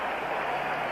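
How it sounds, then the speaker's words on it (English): Crowd applause at a 1984 Redskins versus Dolphins football game, a brief, steady distant roar of stadium fans clapping and cheering, smooth and continuous without distinct individual claps. "he's getting a round of applause for doing it"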